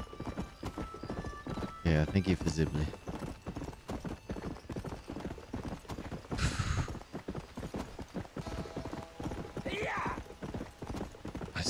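Rhythmic hoofbeats clip-clop steadily throughout in Red Dead Redemption on Xbox 360, with a horse whinnying partway through, while someone talks over the galloping.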